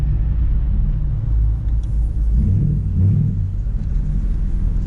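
A Dodge car pulls away from a car meet, its engine a loud, steady low rumble with slight swells as it rolls off, no voices over it.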